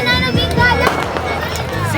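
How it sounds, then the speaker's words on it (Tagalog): Firecrackers and fireworks burst during a New Year's celebration in the Philippines, with several loud close pops over dense background noise and people talking nearby. "Kahit bawal ang paputok, hindi pa rin mawawala talaga."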